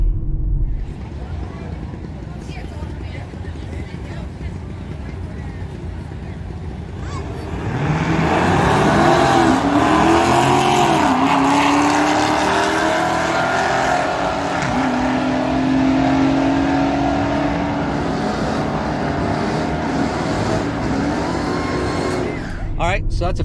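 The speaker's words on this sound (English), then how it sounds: "a clip of when I did a run down the track when my car was stock" A stock Dodge R/T car makes a drag-strip run, its engine building from a distant idle into a loud, sustained roar with rising revs through the gears, while voices talk over it.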